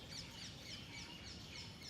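Birds sing among green, leafy surroundings: faint, scattered chirps and tweets over a soft outdoor background, with no voices.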